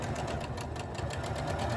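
A sewing machine runs steadily while stitching the lining of a drawstring bag, a continuous quiet mechanical whir with an even stitching rhythm and no pauses.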